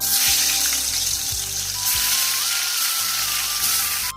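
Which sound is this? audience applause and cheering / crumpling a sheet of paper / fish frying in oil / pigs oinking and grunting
fish frying in oil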